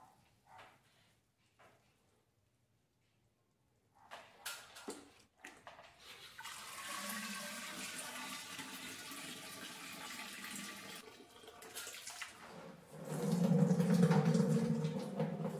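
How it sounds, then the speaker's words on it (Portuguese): Wort drains and trickles from a lifted grain basket during home brewing of an English porter. Faint, steady running water builds after a quiet start and grows louder near the end, with no talking. "Agora vamos suspender o cesto, escorrer os grãos para partir para a fervura."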